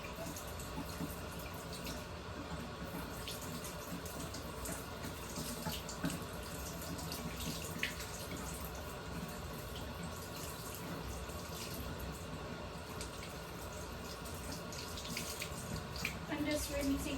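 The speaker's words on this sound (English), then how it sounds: "I'm just rinsing my gloves off a little bit. So I have a little sink in my room." Water runs steadily from a small sink tap in a room while latex gloves are rinsed under it, a constant hissing splash that lasts throughout with faint handling noise.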